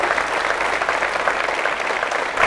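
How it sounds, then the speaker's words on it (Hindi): Studio audience on a Bhojpuri TV quiz show claps in a steady, dense burst of applause throughout, with no talking over it. "सब लोग ताली बजावता"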